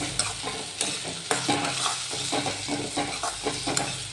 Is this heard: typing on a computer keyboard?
no